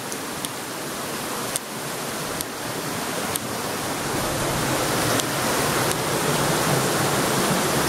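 Steady broadband rush of water flowing beside a wet, rocky trail along a river's edge on a long-distance hike, a loud continuous roar close by with a few faint clicks.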